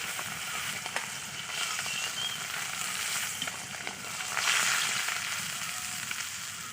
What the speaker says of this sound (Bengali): এইভাবে মাছটাকে ভেজে নিতে হবে